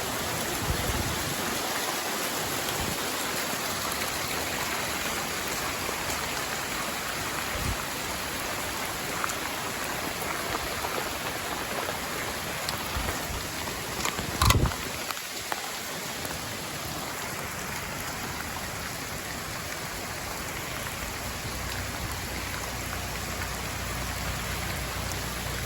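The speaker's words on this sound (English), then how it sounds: "Well, it's raining down here." Heavy tropical rain pouring in Las Penitas, Nicaragua, during a tropical storm, a dense, unbroken hiss of rainfall on surfaces with scattered drips and one brief louder clatter midway.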